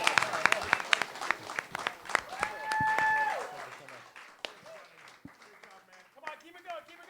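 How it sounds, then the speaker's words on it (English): A live audience at a talk show taping with actor Rob Morrow claps and cheers, dense bursts of applause with a whistle rising above the crowd, then thinning out to scattered claps. "Give him a big round of applause, guys."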